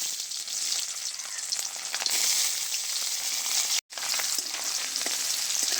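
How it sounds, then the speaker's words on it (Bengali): Pieces of coconut frying in hot white oil in a kadai, a dense, loud, close sizzle running steadily with faint stirring scrapes and a brief cut to silence midway, no talking. "নারকেলটা বাদামি করে ভেজে তুলে নেব"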